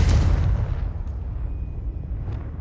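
Confringo spell blast in Hogwarts Legacy, a single loud booming explosion that hits at once and then rumbles and fades away over a couple of seconds.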